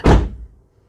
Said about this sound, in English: maybe I've got to shut the door